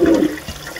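Water flows from a kitchen sink faucet in a Winnebago Revel AWD RV, running pink antifreeze in a steady gushing stream, close and fairly loud for a brief moment.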